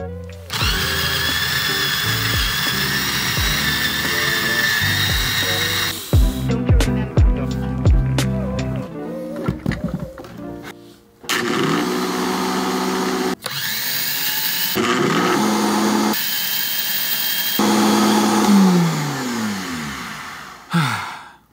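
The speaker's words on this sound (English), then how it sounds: "Now this grinder uses a little switch up here on and off. This sounds terrible. This is a bad sounding grinder." A Goat Story Arco coffee grinder runs loudly with a harsh, whining motor drone, switched off and on several times, with grinding rattles and abrupt changes in pitch between runs.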